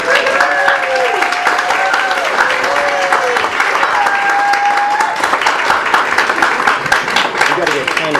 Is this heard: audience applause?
yes